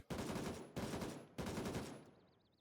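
Three loud, close bursts of automatic fire from an AK-74N rifle with a DTK muzzle brake in the video game Gray Zone Warfare, each burst a rapid rattle separated by short pauses, with no talking.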